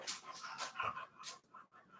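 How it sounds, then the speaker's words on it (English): A dog panting rapidly in quick, breathy bursts, close and fairly soft, with a faint whimper-like note partway through and no voices. "Paul, you want to take care of your dog for a little while?"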